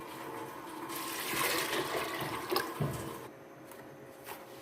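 About a liter of water pours into a pot of chana dal to be boiled, a soft splashing, gurgling flow that runs for a few seconds and quietens toward the end.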